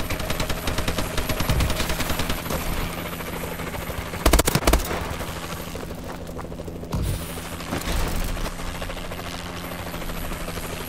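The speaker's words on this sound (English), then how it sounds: "Warbird assistance requested." In the Call of Duty: Advanced Warfare multiplayer game, a Warbird aircraft attacks with a continuous rotor-like drone under rapid machine-gun bursts and a few sharper explosive cracks, loud and dense throughout.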